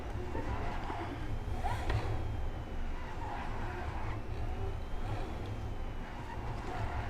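The Neon sports car drives in GTA 5 with a continuous, loud roar of motor and road noise. It holds steady throughout, with brief tire-skid streaks.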